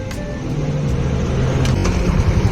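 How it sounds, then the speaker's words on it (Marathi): A just-repaired car engine runs after starting, a loud steady mechanical rumble with a slight rise in revs toward the end and no voices. "तर फायनली 15 मिनिटांनी आपली गाडी जी आहे ती स्टार्ट झाली."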